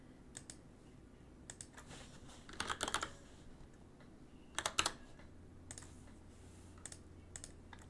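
A computer keyboard clatters in scattered clusters of quick keystrokes with pauses between them, close but quiet, against a low background hum.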